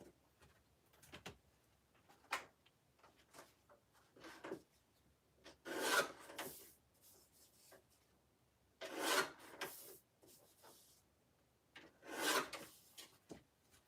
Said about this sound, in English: I'm going to have to take this to my large trimmer.